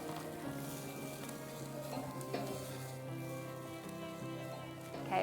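Lamb cutlets sizzle over an open fire, a faint steady crackle and hiss with soft clinks as the meat is turned, distant and low.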